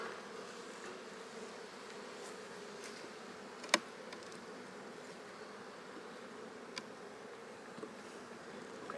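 Honeybees drone in a busy, strongly packed brood box during a hive split, a steady soft hum with a sharp click partway through.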